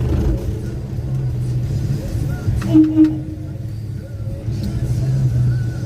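Engine of a 1965 Chevy truck running as it drives off on the clutch, a steady low rumble throughout with a brief louder surge midway; faint background noise, no talk over it.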